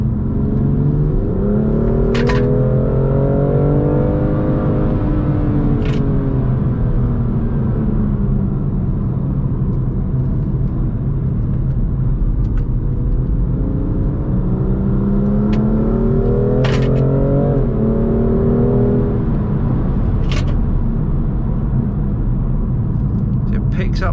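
A BMW M2 Competition with an automatic gearbox, filmed from inside while driving, revs loudly and steadily with rising engine sweeps and gear changes, a constant close rumble throughout, with sharp clicks and knocks now and then.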